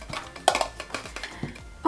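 Small reusable cutlery is handled and knocked together, producing a quick run of light metallic clicks and clinks, close and moderately loud.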